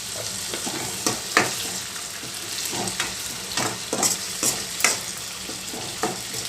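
Paste of ground garlic, green chili, curry leaves and cumin sizzles and fries steadily in hot oil, with scattered stirring scrapes and small pops throughout, close and moderately loud, no voices.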